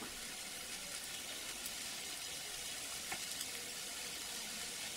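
Garlic pieces sizzling and frying in a pan with allspice and coriander roots for a soup base, a steady close crackle with faint stirring and no talk.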